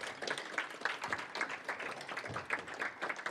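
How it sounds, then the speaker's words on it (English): Scattered audience clapping fills a classroom-style session, a fairly dense patter of hand claps that holds steady without letting up. "Keep clapping, please."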